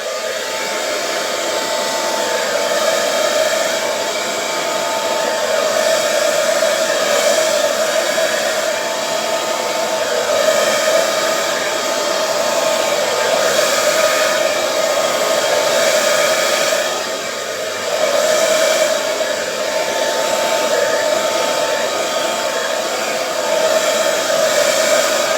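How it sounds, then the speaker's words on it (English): A hairdryer blows wet acrylic paint across a canvas, a loud, close, continuous whirring roar that holds steady for the whole stretch with only slight dips and no talk. "I'm going to blow this with the hairdryer to get the canvas covered."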